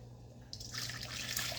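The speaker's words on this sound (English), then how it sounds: "So you start off with boiling water." Boiling water pours into a bowl as the first step of a blue Jello witch's brew, a steady liquid splash swelling from quiet to a full, continuous pour, close and alone.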